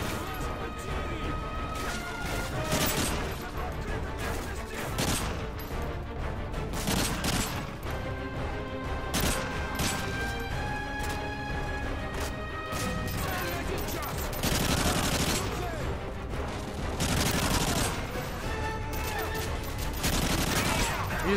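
Dense, sustained automatic gunfire and explosive crashes from a Call of Duty MW3 firefight fill the whole stretch loudly, with bursts, impacts and a faint voice buried underneath.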